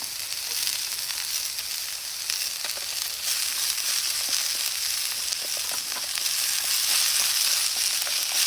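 Chunky celery, tomatoes, peppers and onions sizzle steadily in a hot pot for a spicy stout stew, a constant crackling hiss that swells slightly toward the end, with no voices.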